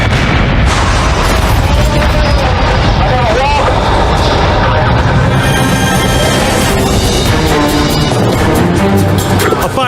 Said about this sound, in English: a fire truck-mounted camera captures the explosion as it rips through the structure.